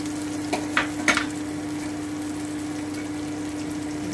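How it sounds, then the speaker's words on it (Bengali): Spices with ginger paste and coriander powder sautéing in a pan, a soft steady frying hiss with a low hum and a few brief scraping stirs near the start, no talking. "আমি ভালো করে একটু কষিয়ে নিচ্ছি"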